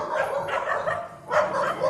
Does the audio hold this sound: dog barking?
yes